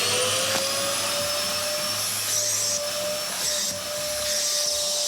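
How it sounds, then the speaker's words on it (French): A vacuum cleaner runs steadily and loudly throughout, a constant close whine and rush of air with a high tonal hum and slight shifts in pitch as it is moved, fitted with a filter for collecting dust and hair. "On va le mettre sur l'aspirateur."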